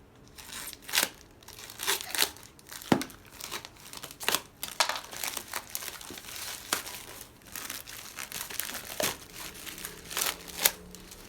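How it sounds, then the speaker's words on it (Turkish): A light bulb camera's cardboard package and wrapping are opened up close, with irregular bursts of crinkling, rustling and sharp crackles spread across the whole stretch. "Şöyle fazla derine inmeden paketimizi açmaya başlıyoruz."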